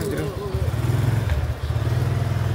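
Motorcycles rumble past through a crowded clothing market in Pratunam, Bangkok, their engines chugging close and continuous while people talk nearby.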